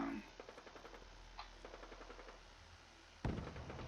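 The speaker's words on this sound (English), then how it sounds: "I'm hearing gunfire in that direction. Sounds like it might be some Nuka World Raiders by the sound of the guns" Bursts of distant gunfire in Fallout 4 crackle in quick irregular volleys, faint at first, followed by a louder burst near the end.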